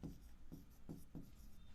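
Chalk or marker writing on a classroom board during an art lesson: soft, quiet scratchy strokes in a steady rhythm of four or five short bursts, close and low in level.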